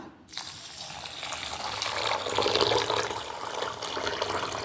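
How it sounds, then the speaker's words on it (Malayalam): Water pours steadily into a bowl for washing ingredients while preparing a Palakkad-style ozhichukari, a continuous close gush that starts after a brief quiet moment and swells slightly as it fills. "കുറച്ച് വെള്ളം ഇതിലേക്ക് ഒഴിച്ചു കൊടുക്കാം"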